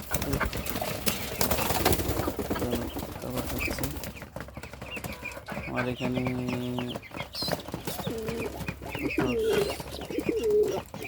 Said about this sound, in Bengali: কবুতরগুলো দেখেন খুব সুন্দর করে খাবার খাচ্ছে